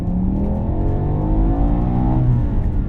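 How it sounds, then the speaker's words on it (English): A BMW E60 M5 with a manual gearbox revs hard from close by, its engine note climbing steadily in a loud, continuous howl with no talk over it. "Just never stops revving."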